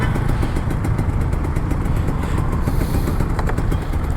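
A Kawasaki Ninja RR 150 sport motorcycle engine runs steadily and loudly up close, with a rough mechanical clatter throughout and no clear rise in revs.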